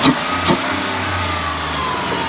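A Ford Escape engine revs up briefly twice at the start through its air intake, then settles into a steady idle hum, close and fairly loud.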